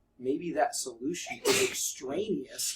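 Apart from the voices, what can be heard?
sneeze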